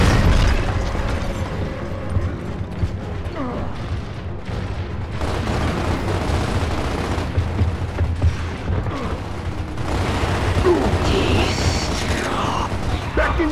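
Explosions and gunfire from the Gears of War video game, including a frag grenade blast, sound as a loud, dense rumble of booms and bursts. They continue without pause over mechanical clatter, with a bigger surge of blasts near the end.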